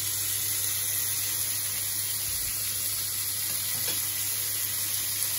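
Pork wrapped in bacon and cooked with butter fries in a pan with a soft, steady sizzle and no voices.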